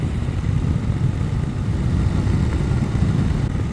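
A BMW F850GS motorcycle being ridden on a country B road: a steady, loud low engine drone with wind rumble that holds constant throughout, with no voices.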